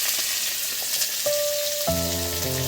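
Chopped onions hit hot oil in a pan for fish kalia, a close, even hiss of frying that holds steady while a tonal ringing tone joins in toward the end.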